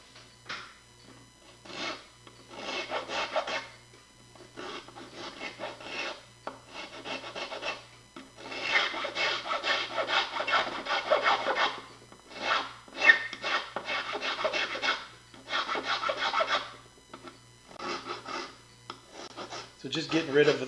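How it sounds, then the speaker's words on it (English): Rasping strokes of a Grobet zero-cut crossing file shaping a wooden violin bow, coming in bursts of steady back-and-forth filing with short pauses, close and moderately loud. "So this is a file called a crossing file."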